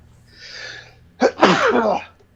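A single close, loud sneeze: a soft breathy intake followed by a sharp explosive burst that trails off quickly.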